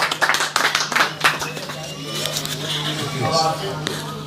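A small crowd at a poetry gathering in London claps in a brief burst of scattered hand claps that quickly fades as a voice begins speaking over a low steady hum.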